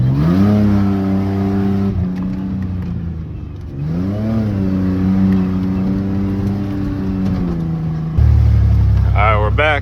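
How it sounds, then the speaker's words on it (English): A beater pickup truck's engine revs and drones in rising and falling sweeps, loud and close, with a louder low roar near the end. "It's already revving up without me on the gas"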